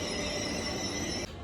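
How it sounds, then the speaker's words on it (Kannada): A goods train standing at a railway station gives off a steady, close rumble and hum with high sustained tones, cutting off abruptly near the end; no voices. "ರಾತ್ರಿ ನಿಂತಿದ್ದು ಗೂಡ್ಸ್ ಟ್ರೈನ್ ಇನ್ನೂ ಇಲ್ಲೇ ಇದೆ"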